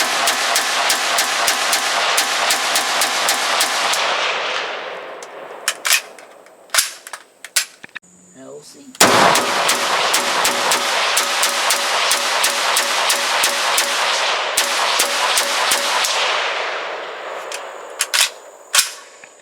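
A CETME Mod.LC carbine empties full 30-round magazines in loud, rapid bursts of automatic fire, then a short gap with scattered shots and handling clicks before another long sustained burst.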